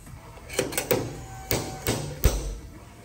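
Sharp metallic knocks of a slide hammer working on a transfer case seal of a late model GM 4x4, six separate strikes spaced unevenly over a few seconds, close and fairly loud.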